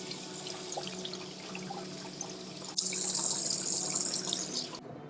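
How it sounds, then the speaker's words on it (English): Shrimp rinsed under a kitchen tap: quiet room hum with small clinks, then the faucet bursts on into a loud, close, steady rush of water that stops abruptly. "Give these just a quick rinse."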